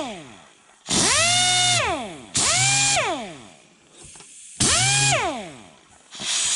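An air-powered drawbar actuator for a Bridgeport mill, tried out on a workbench, gives three loud hissing blasts of air, each holding a droning pitched tone that falls away as the air bleeds off.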